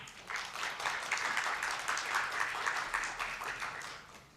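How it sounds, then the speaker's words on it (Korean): A university showcase audience gives sustained applause to a student team's presentation, a steady wash of many hands clapping, moderately distant and soft, tapering off at the end. "해피데이지 팀에게 격려의 박수를 부탁드리겠습니다"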